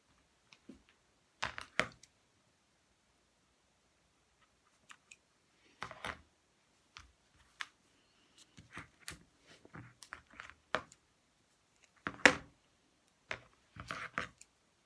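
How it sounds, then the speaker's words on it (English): Sparse, crisp snips and clicks come in short bursts, scissors cutting through tape close by in an otherwise quiet room during a mobile-making workshop. "Just need to get a pair of scissors and cut that."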